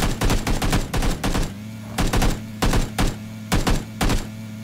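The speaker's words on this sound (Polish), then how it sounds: "Strzelaj, strzelaj, strzelaj w tego typa." Gunfire in PlayerUnknown's Battlegrounds comes as loud, close bursts of rapid automatic shots, with groups of three to five cracks separated by short pauses over a low engine hum.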